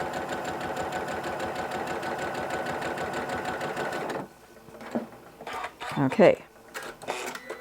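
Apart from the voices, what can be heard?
sewing machine stitching quilt strips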